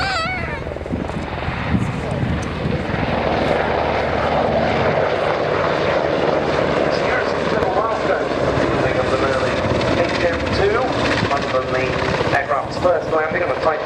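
A Royal Navy Merlin helicopter at the RIAT 2014 air show gives a loud, continuous rotor and turbine roar, with a commentator's voice over the public address system and crowd noise.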